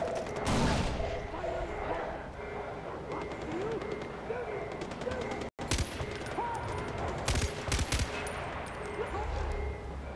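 Bursts of rapid automatic gunfire and scattered single shots in a snowy Far Cry 4 firefight, fairly close and loud, with someone talking over parts of the shooting.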